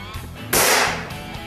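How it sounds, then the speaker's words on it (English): A single sharp report from a Benjamin 392 air rifle, a loud broadband crack that rings and fades over about half a second, with quieter background hum before and after. "I would put this rifle in the medium to high loudness category"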